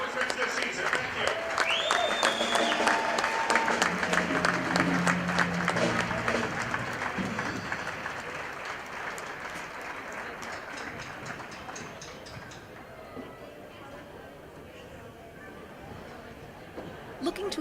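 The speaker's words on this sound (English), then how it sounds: "give them a big round of applause for their accomplishments this season" A gymnasium crowd at an Otterbein University basketball game applauds the volleyball, cross country and golf teams, loud clapping at first that gradually thins and fades, while a voice and tones sound over the opening seconds.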